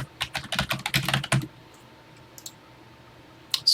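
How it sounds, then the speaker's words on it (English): A BASIC program is typed on a TI-99/4A home computer keyboard in a quick, rhythmic run of close keystrokes. A pause follows, then a few scattered clicks. "that's what you do when you're typing in a TI basic program"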